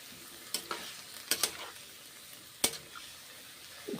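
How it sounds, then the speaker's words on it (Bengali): Quiet sizzle of cabbage with garlic in a pan after water is added, with several sharp clattering stirs and scrapes, the hiss fairly faint between them. "রসুন বাঁধাকপি জল দিলাম এখন ভাজা হয়ে গেছে জল দিয়ে দিলাম"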